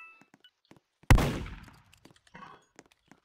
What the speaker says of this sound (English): I heard someone shoot.